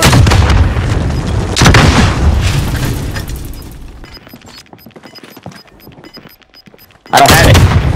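Rocket blasts and gunfire in Call of Duty: Modern Warfare: loud booming explosions and rapid shots in the opening seconds, a quieter tail with scattered distant reports, then another heavy blast near the end.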